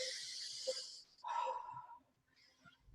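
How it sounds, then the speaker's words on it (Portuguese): A person demonstrates pulmonary breathing, with close, breathy inhales and exhales, soft airy rushes separated by a short pause. "Essa respiração que nós fazemos é a chamada respiração pulmonar."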